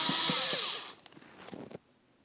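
A power screwdriver whirs briefly while removing two Phillips head screws from the mass airflow sensor of a 2003-2008 Toyota Matrix 1.8L, followed by a few light clicks and taps of hardware, close and fairly quiet.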